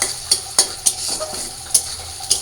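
Ground onion and garlic paste fries in a pan with a low close sizzle. A spatula strikes the pan in quick, sharp scrapes that come at a fairly even pace.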